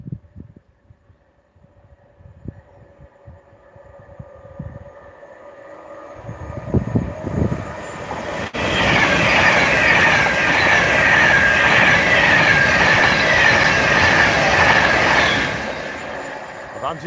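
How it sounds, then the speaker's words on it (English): Pendolino train on the West Coast Main Line north of Crewe, first quiet with faint voices nearby, then a swelling rumble that bursts into a loud roaring, rattling pass lasting several seconds before fading. "And here it comes. Pendolino to Liverpool Lime Street."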